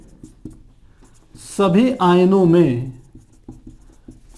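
Chalk or marker scratches on a board during a Hindi-language Class 11 chemistry lesson on the classification of elements, with faint strokes before and after a brief spoken word from the teacher in the middle.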